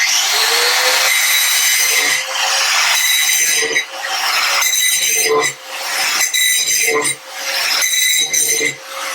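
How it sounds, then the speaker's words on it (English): Angle grinder held by its handle grinding and flattening the edge of a rotary cutter blade, a loud continuous high screech with brief dips as the tool lifts and returns, close up. "So take your angle grinder, always use a handle, and then use your body."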